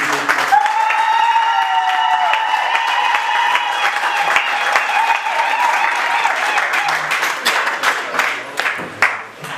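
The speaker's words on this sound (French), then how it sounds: "On peut encore l'applaudir très fort, s'il vous plaît." An audience at a book launch ceremony claps loudly and steadily, with sustained musical tones or ringing running through the first half, then the applause breaks into scattered claps near the end.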